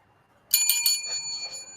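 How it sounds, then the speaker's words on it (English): A bright bell is rung three times in quick succession, loud and close, then its metallic ring lingers and fades slowly with no voices. "Oh, good. You have your bell."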